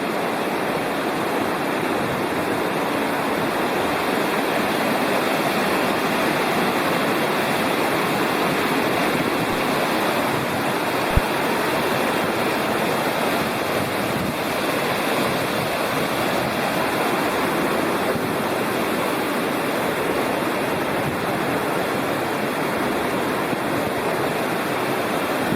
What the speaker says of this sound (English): The river is loud.